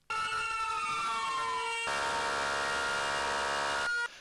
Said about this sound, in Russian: под звуки выстрелов и сирен пожарных машин